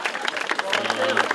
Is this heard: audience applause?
yes